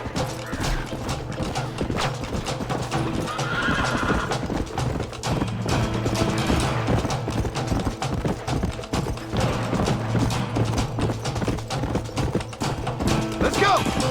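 Horses in the Red Dead Redemption video game, with steady clip-clop hoofbeats running throughout, loud and close, mixed with game mechanisms and brief spoken voices.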